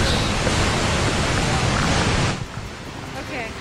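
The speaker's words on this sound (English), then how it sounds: "That's the sound of rushing water as floods devastate parts of Colorado." Floodwater rushing through parts of Colorado makes a loud, dense, steady roar that fills the first two seconds, then drops to a softer continuous wash of water noise.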